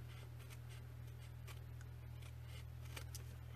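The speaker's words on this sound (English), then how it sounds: "I'm just going to trim off my excess here" Scissors trimming excess paper from a handmade double pocket card, soft repeated snips close by over a steady low background hum, with no talking.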